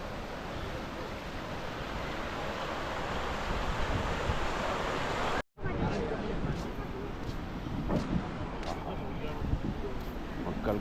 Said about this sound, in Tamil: கங்கை தண்ணி எவ்வளோ சவுண்டு ஆகுது.